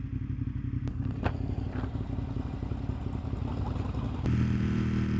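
A Ducati Monster 1200S motorcycle cruises on a highway with a steady, close engine drone mixed with wind buffeting, a few sharp clicks and a slight rise in engine pitch near the end.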